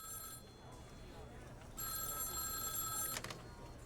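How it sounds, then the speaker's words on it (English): An old-style telephone bell rings in two bursts, the second louder and longer, in a space mission control setting, with talk and background murmur under it. "phone rings"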